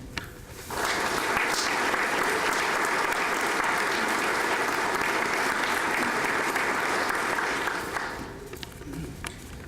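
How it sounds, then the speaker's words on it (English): Loud, sustained applause from a graduation audience at a police recruit class commencement, rising sharply after a short pause and holding steady for about seven seconds before tapering off. "Let's take a moment to give a round of applause and appreciation for the hard work and sacrifice"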